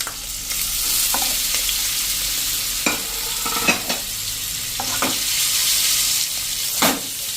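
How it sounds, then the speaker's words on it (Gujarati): Oil sizzles steadily as green chilli pieces fry in tempering oil, with repeated scraping and clinking of a spoon stirring the pan. "હવે જે આપણે આ મરચાં પીસ કર્યા છે ને એનો આપણે હવે આમાં વઘારમાં નાખી દઈશું"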